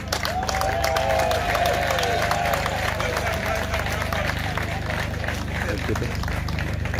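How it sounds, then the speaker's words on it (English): A crowd at a construction launch ceremony claps steadily for the contractors, a continuous dense patter of many hands, with a voice briefly sounding over the applause. "I want to ask you to clap for them"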